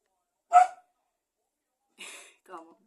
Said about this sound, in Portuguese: Caraca, cachorro!